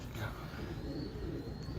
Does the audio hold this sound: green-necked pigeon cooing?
yes